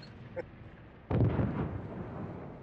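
A torpedo strikes an enemy Kaiser battleship in World of Warships, one booming explosion midway that rumbles and fades over about a second.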